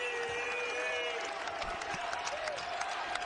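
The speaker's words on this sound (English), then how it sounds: "Crowd into it here in Newark, New Jersey." Basketball arena crowd in Newark, New Jersey, at a college game, cheering and clapping loudly and steadily throughout, a dense roar with scattered claps and whistles and no clear speech on top.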